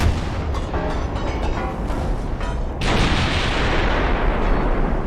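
Warship secondary guns fire in the naval strategy game Ultimate Admiral: Dreadnoughts, with a run of heavy booms and rumbling blasts that swell into a loud, sustained roar of gunfire.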